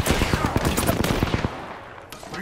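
Rapid automatic gunfire aimed at the player in Apex Legends, a dense burst of sharp close shots for about a second and a half that cuts off into quieter game ambience.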